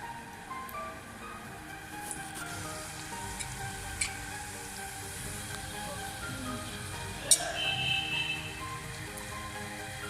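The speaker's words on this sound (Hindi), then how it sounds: "अब हम समोसे ऐड कर देंगे और फ्राई कर लेंगे" Samosas fry in hot ghee with a steady soft sizzle and faint crackling pops, a continuous low hiss throughout with an occasional sharper spatter.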